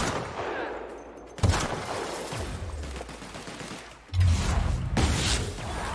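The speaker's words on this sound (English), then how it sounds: "This sniper does so much damage sometimes." Sniper rifle fire in the video game The Outer Worlds: two loud, sharp shots spaced a few seconds apart, each followed by a booming decay.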